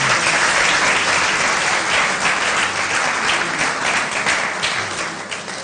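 A studio audience at a television variety show bursts into steady, dense applause that fills the whole stretch, holding loud and even before tapering slightly toward the end.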